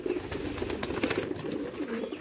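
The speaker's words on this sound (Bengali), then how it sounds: "ডাকতেছে, শুধু ডাকতেছে, এখানে খাবার খাচ্ছে না, মানে কবুতর পাগলা টাইপের" Farm pigeons cooing in a repeated, throaty low rhythm, several soft coos in quick succession at close range, with faint rustling in the background.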